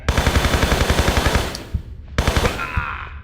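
Rapid MP5 submachine gun bursts from Tomb Raider 3, fired in the Area 51 level, a steady loud rattle of shots followed by a short pause and another quick burst.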